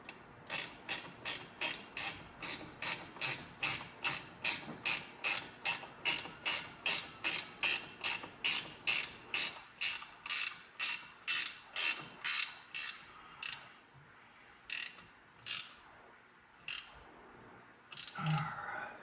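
Ratchet tightening a bolt on the brake system of a 1979 Trans Am, a close, regular run of sharp clicks that slows and thins into scattered single clicks toward the end.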